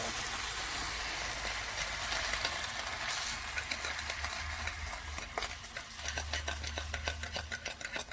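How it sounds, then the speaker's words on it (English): Rice vinegar and sugar being stirred in a hot pan, a steady close sizzle overlaid by repeated scraping stir strokes that grow more rhythmic toward the end. "Stir that up."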